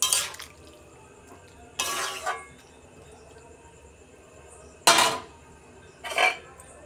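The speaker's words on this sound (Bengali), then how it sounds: "তো তরকারিটা আমি এবার একটু নেড়ে চেড়ে চাপা দিয়ে দেবো।" A radish vegetable curry is stirred in a metal pot and then covered with a lid. Four short, separate clattering bursts of metal on metal stand out against an otherwise quiet kitchen.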